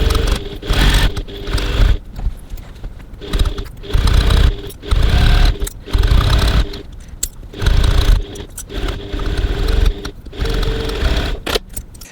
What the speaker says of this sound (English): we're going to go over to the sewing machine and stitch that seam